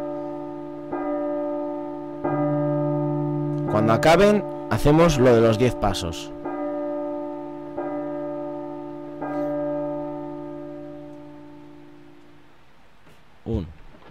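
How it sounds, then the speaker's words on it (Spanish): Church bells toll for midnight in the horror game P.T. (Silent Hills) on PS4, a series of slow resonant strikes that ring and decay, with someone speaking briefly over them. "Suenan las campanadas."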